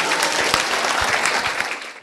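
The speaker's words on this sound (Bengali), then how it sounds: "সবাই জোরে একটি হাততালি দেই।" Loud, dense applause from a crowd of high school students at a school quiz competition, steady clapping that fades out at the end.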